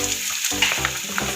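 Grated coconut sizzles in hot coconut oil, a steady close hiss with faint scraping stir sounds.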